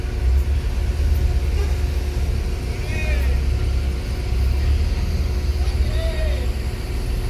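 Bus engines idle and rumble steadily at a busy Indonesian bus terminal, with a low constant drone, occasional brief squeals, and background chatter from people nearby.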